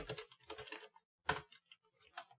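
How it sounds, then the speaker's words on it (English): Bursts of typing on a computer keyboard while values are entered into a spreadsheet range, with quick clustered key clicks separated by short pauses and one sharper louder keystroke burst midway. "Or I will type the values"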